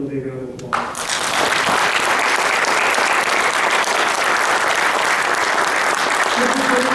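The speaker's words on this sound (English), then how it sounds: "how about we give them a big round of applause?" Audience at a design-build conference session breaks into loud, sustained applause right after a voice at the start, steady clapping filling the room for several seconds.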